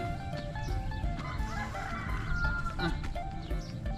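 Chickens cluck repeatedly on a rural farm beside a vegetable garden under construction, with several birds calling at close to middle distance over steady outdoor background noise.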